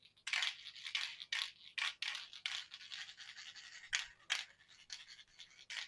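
A can is shaken in bursts, its loose mixing ball rattling sharply back and forth in a quick, uneven rhythm, close and fairly loud.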